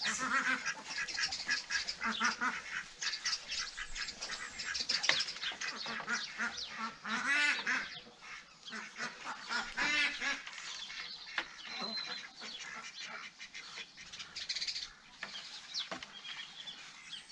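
Ducks quack over and over in a wildlife garden, a busy, fairly close chorus of honking calls that keeps going throughout, with a little human voice mixed in.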